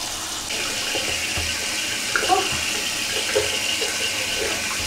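A faucet or shower pours steadily while hair is rinsed out during a wash, a dense close splashing stream that holds an even level throughout.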